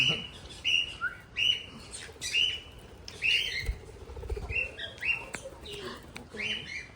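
Birds in a mini zoo aviary near Nandi Hills, Bangalore: repeated short, high-pitched calls and chirps in irregular bursts, fairly close, with faint background chatter and shuffling.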